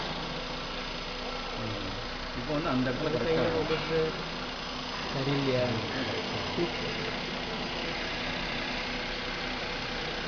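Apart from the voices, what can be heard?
normal car engine running with belt and chain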